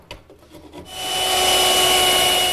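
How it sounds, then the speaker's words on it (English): Wood rasped to knock the corners off tenons on a chaise lounge leg: a few quick, scraping strokes, then a loud, steady, continuous grinding rasp close by. "Here I'm knocking the corners off of the tenons on the leg because the tenons have to fit into round mortises in the rail."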